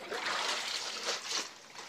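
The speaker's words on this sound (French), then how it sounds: "Moi, je vais rincer." Bazin fabric being rinsed by hand in water, with steady splashing and trickling that swells in a few soft surges over two seconds, close by and moderately loud.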